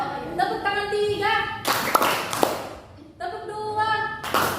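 Students in a classroom clapping hands in short patterned bursts between stretches of a teacher speaking, the claps sharp and rhythmic, alternating with talk.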